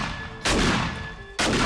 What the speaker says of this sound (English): Let's test the auto shotgun.